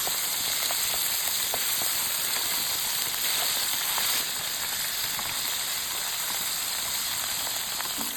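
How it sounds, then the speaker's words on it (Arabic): Beef slices sear in butter in a pan with a continuous crackling sizzle, moderately loud and close, with small pops scattered through and no voices. "انزل باللحمه اديها تشويحه في الزبده لحد ما تاخد لون"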